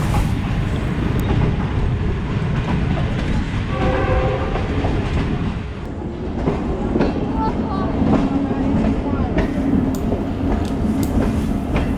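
Fareed Express passenger train rolling on the rails, a loud continuous rumble with wheel clatter and a brief tonal squeal midway, steady throughout.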